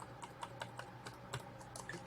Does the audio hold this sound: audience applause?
no